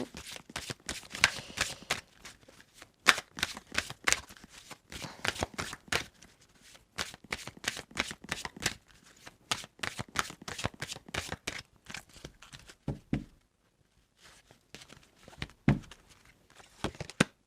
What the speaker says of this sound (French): Je vous prends que 2 cartes.